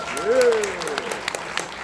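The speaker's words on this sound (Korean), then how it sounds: "박수 부탁드리겠습니다." Audience applause at a Korean political talk or rally, a steady wash of clapping with a raised voice over it at the start, moderately loud and close.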